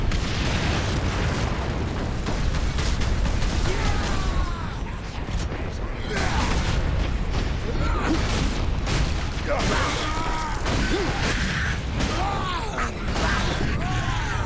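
Continuous heavy gunfire and explosions from the Warhammer 40,000: Space Marine video game, dense and loud throughout with mechanical clanks, while someone talks over it.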